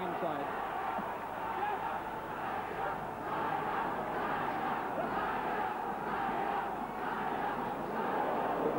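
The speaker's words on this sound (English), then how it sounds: "just as the Kaylor fans are beginning to get their man some cheering" Fans at an ABA middleweight amateur boxing final between Mark Kaylor and Delroy Parkes make a steady roar of distant crowd cheering and shouting, running under a commentator's continuous talk.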